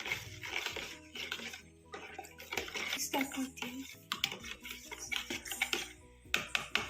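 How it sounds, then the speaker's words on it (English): A spoon stirs sugar into water in a container, giving irregular clinks and scrapes with a faint sloshing, fairly quiet and close, with some voice in the background. "add it to the water and mix it thoroughly"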